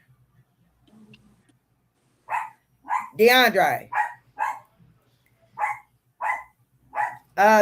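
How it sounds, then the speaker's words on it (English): A dog barks repeatedly near the microphone, a run of sharp barks in an uneven rhythm after a quiet start, with a voice speaking briefly early on. "Got the dog barking here"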